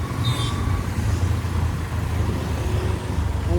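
City road traffic on a Pune street on a Sunday, with a steady close rumble of car, bus and truck engines and a brief high brake squeal, no voices over it.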